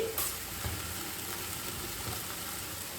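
Garlic and green chilies sizzle steadily in a pan with turmeric for a chicken curry, a constant close frying hiss broken by a few soft stirring scrapes, with no voices.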